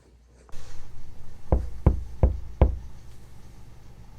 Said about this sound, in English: Who is knocking on my door?